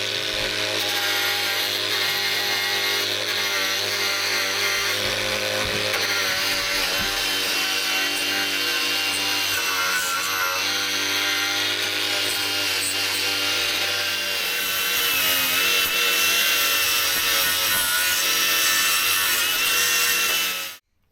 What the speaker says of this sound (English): let's get this grinding finished so we can get the rust killer on and go home